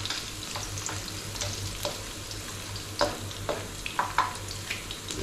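Garlic frying in a pan as the start of pinakbet, a steady close sizzle with occasional stirring scrapes and clicks, no talking.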